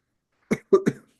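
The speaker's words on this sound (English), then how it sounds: "Excuse me, while I cough." A man coughs three times in quick succession, close and dry: a single cough followed by a tighter double cough.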